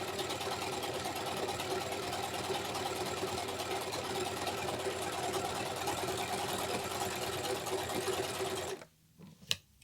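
A Singer S010L budget household overlocker runs steadily, sewing a three-thread seam on plain fabric with a fast, even mechanical whir that continues close and loud for about nine seconds, then stops abruptly with a faint click.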